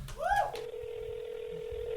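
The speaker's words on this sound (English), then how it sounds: "I can try to give him a buzz right now" Telephone dialing tones at a comedy show, a short rising burst followed by a steady held tone that runs on, heard fairly clearly with faint room noise beneath.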